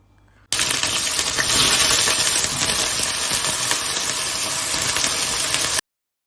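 Cut eggplant pieces dropped into hot oil in a pan set off a sudden loud, dense sizzle that holds steady and close for several seconds before cutting off abruptly; no one talks.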